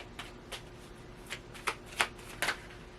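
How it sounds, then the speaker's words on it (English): Tarot cards being shuffled by hand, a run of soft riffling bursts and quick papery flicks, close and fairly quiet, with no talking. "Okay, let's pull some cards on this."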